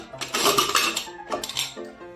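A pressure cooker is opened amid pots and utensils, giving loud metallic clatters and clinks in two bursts close at hand, with no voices.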